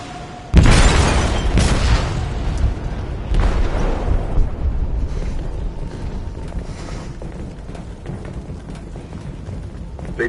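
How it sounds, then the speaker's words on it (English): A heavy boom erupts in a ship's hold in Detroit: Become Human, a sudden loud blast followed by a long rumbling decay and debris clatter. "They detonated an explosive in the hold."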